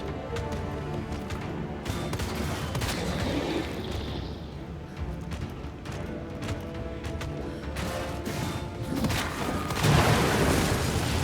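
Scattered booming gunshots in Resident Evil 2 Remake, several heavy reports spread across a busy game soundscape with clattering, splashing ambience, the last shot landing loudest near the end.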